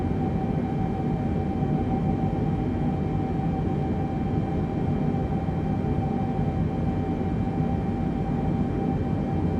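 Boeing 747-8i or 787 jet engines in Microsoft Flight Simulator spool toward climb thrust as a steady, loud, broadband roar with a constant whine, unbroken for the whole stretch.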